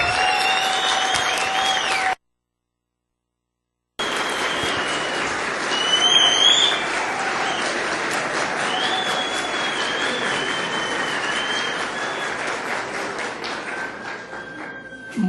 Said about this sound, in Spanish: Ahora recibamos con un fuerte aplauso a nuestro hermano William Soto Santiago.